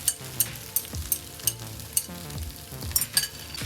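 Beaten eggs stirred into frying fish roe in a pan, a bright sizzle under a quick run of close utensil scrapes and taps against the pan.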